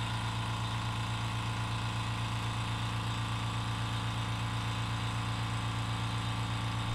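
A Fortress ultra quiet air compressor runs steadily while filling its tank, giving a constant low mechanical hum with a faint motor drone that holds unchanged from start to finish, with no voices.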